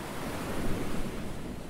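Ocean waves wash onto a seaside beach in a steady, broad hiss of surf, fairly close and unbroken, with no voices.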